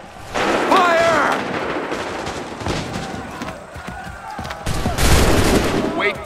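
A musket volley fired in Assassin's Creed 3, loud crackling bursts of massed gunfire in two main waves with rumbling echoes, mixed with shouted commands and battle noise.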